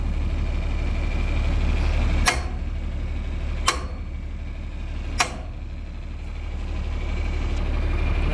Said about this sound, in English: Maybe I should just pull the tractor forward.